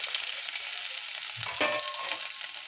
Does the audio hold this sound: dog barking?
no